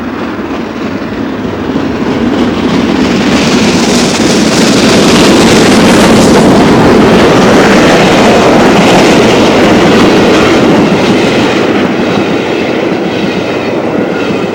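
Steam locomotive 4472 Flying Scotsman runs past on a 1986 excursion to Stratford: a loud, sustained rumble and roar of the engine and its carriages, with rail clatter building and lingering for several seconds.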